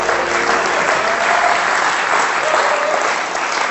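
Loud, sustained applause from an audience, a dense wash of clapping that holds steady and begins to thin toward the end.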